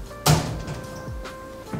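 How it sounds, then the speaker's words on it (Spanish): A fragile household door shuts with one sharp thump near the start, followed by fainter knocks and rattles in a quiet indoor room. "Esta puerta es muy frágil."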